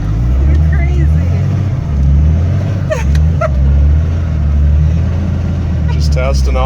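A Cummins-powered Ford Excursion with a new clutch drives and drifts in the snow, its deep engine rumbling loudly and surging in slow swells throughout, while a dog whimpers and yips nearby and a voice speaks over it.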